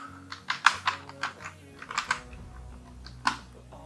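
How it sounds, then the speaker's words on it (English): Quick bursts of computer keyboard typing as an ngrok command is entered in a command prompt, with close, crisp keystrokes in two short runs and a final single tap. "So inside your command prompt, just type ngRok"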